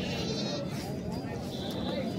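Goats bleat at a crowded goat market in Bhopal selling breeds like Kota and Barbari, the calls blending into constant crowd noise while people talk nearby.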